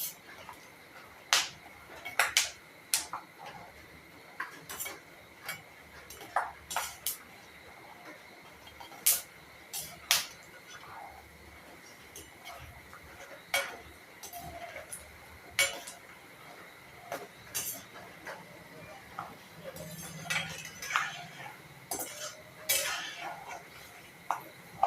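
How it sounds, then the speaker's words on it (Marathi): Peanuts dry-roasting in a pan for murmura chivda, stirred until golden, giving scattered light clicks and scrapes with a faint steady sizzle underneath; nobody speaks. "शेंगदाणे खरपूस रंगापर्यंत भाजून घ्यावे।"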